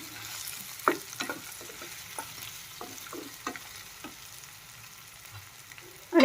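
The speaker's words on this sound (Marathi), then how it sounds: "आणि आता यामध्ये थोडंसं डाळवं 1 चमचा हे पण आपण फ्राय करूया." Split lentils fry in hot oil for a tempering, a soft, close sizzle under repeated spoon scrapes and taps against the pan, with a louder clatter at the very end.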